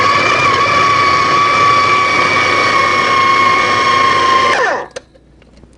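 Food processor whirring on its high setting while cutting butter into pie crust dough, a loud steady motor whine holding for nearly five seconds before winding down and stopping, followed by a couple of faint clicks.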